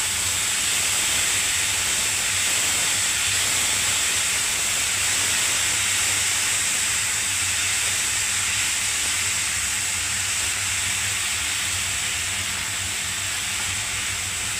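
Vegetables seasoned with salt and turmeric sizzle and fry in a pan while being stirred, a steady broad hiss running without pause and no voices over it.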